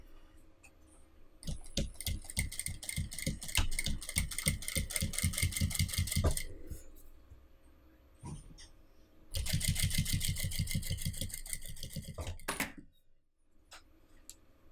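A sewing machine stitches soccer ball panels in two long runs of rapid, even needle clatter, close and steady, separated by a quieter pause with faint handling clicks.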